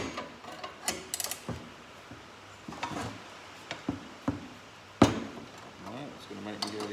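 A nut being undone on the corkscrew jack of a Liteweight 1300 caravan under restoration, giving a string of close metallic clicks, ratcheting and clanks with a sharp knock near the end and quiet background noise.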